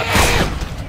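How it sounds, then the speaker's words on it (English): A weapon reloads in the zombie shooter Left 4 Dead 2, a quick close mechanical clack-and-ratchet lasting about a second, loud and alone. "Reloading!"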